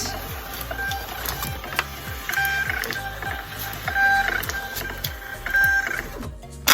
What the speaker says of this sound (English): I have my thermal printer set up right there. I'm just going to plug in to the USB port and it should start printing out.